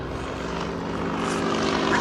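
A Yak 52 propeller aircraft engine drones loud and steady, a continuous rumbling hum with no voices over it.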